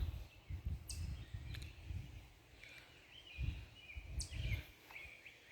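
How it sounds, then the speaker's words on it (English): Birds in a garden on a cool morning give brief chirps and short calls a few times, faint and at a distance, over a soft rustle of background. "Can hear the birds."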